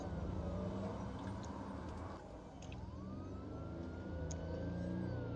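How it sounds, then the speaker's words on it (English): Police sirens wail in a Roblox police game, a rising and falling tone over a steady, loud engine and traffic rumble, with no talking. "I hear sirens going off,"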